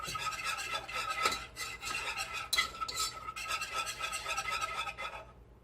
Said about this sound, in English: you're going to continue to whisk this until it begins to bubble